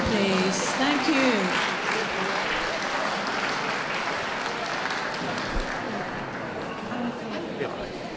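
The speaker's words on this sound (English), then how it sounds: "Can we give a round of applause to those leaving the ring, please?" Crowd applause at a championship dog show in the toy group ring, a continuous rustling wash of clapping in a large hall, with a voice speaking briefly over it at the start.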